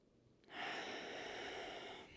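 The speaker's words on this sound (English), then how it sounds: "Deep inhale. Slow, slow." A deep yoga inhale, one long steady breath drawn in close to the microphone, starting suddenly and lasting nearly two seconds before easing off.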